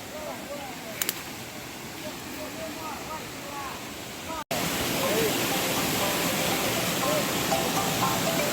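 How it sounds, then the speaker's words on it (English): Steady rushing water from a waterfall in a rainy jungle fills the background as broadband noise, growing noticeably louder and closer midway through, with faint splashing and scattered sounds. "And you see the waterfall."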